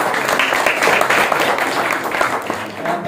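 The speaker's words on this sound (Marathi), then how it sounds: "टाळ्या वाजवा" Audience applause at a district-level essay competition prize ceremony, steady crowd clapping filling the full stretch at a fairly loud, even level, with some voices mixed in.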